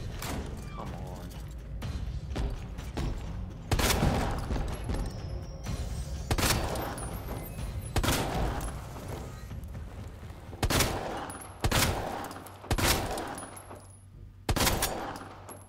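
Gunshots ring out in the video game Resident Evil 2, roughly ten sharp, loud reports fired at irregular intervals, with mechanical clanks and creaks between them.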